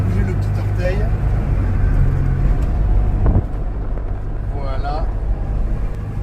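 Casalini M20 microcar driving, with a steady droning engine note and road noise throughout, a brief clunk midway, and someone talking over the engine.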